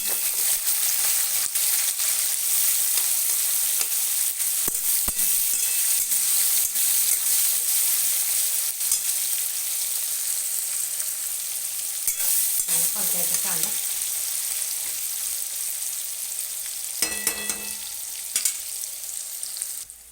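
Sliced onions for kande pohe sizzle steadily in hot oil, with the constant loud hiss of frying broken by occasional scraping stirs of a spatula against the pan.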